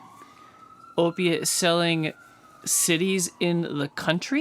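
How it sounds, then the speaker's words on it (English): An emergency vehicle siren wails faintly outside in downtown Sanford, a thin steady tone running beneath close, continuous indoor conversation. "Apologies to our listeners if you can hear the sirens outside."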